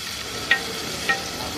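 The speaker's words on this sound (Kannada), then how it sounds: "ಈ ರೀತಿ ಹಾಕ್ಬಿಟ್ಟು ಸ್ವಲ್ಪ ತಿರ್ಸ್ಕೊಟ್ಬಿಟ್ರೆ" Broccoli mixed-vegetable stir-fry being stirred in a pan for an Indian-style dish, giving a steady soft sizzle with two brief scraping clinks of the spoon, close and alone.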